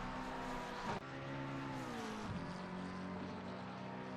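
A red, white and blue Porsche race car in a racing video game at Indianapolis roars close by with a steady high engine whine, which dips sharply once as the car shifts and then keeps pulling down the back straight.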